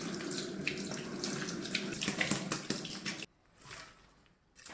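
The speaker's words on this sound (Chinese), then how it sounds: "泡好的腐竹捞出，用清水冲洗一下，沥干水分。" Soaked tofu skin rinsed under a running kitchen tap, a steady close hiss and splash of water into a sink that cuts off abruptly, leaving faint dripping and quiet handling sounds.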